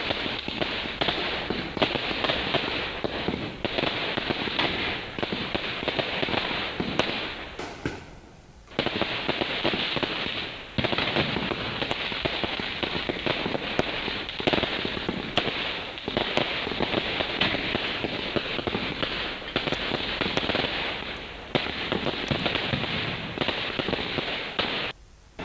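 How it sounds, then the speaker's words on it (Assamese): Firecrackers burst at night on a road in dense, rapid crackling volleys. The roar runs nearly nonstop, with a short gap partway through, and stays loud throughout. "বহু সময় ধৰি নিশা দুধনৈ ৰাজপথত এনেদৰে ফুটিল ফটকা।"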